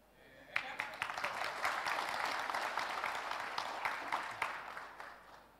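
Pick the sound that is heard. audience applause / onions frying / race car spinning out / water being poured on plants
audience applause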